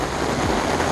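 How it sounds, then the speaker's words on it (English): Heavy rain pours onto the roof of an RV parked at a Florida state park campground, a dense, loud, continuous hiss and drumming with no gaps. "we pulled in and then it started pouring"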